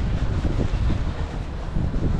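Strong wind buffeting the microphone on the piers at Jones Beach in March, a constant low roaring rumble with gusty surges throughout, no voices.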